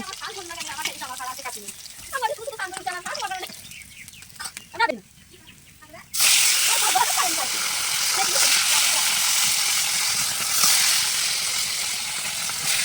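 Fresh whole fish fry in a little oil, a loud, steady hiss and sizzle that bursts in and holds for the second half, after a stretch of voices and clucking chickens nearby.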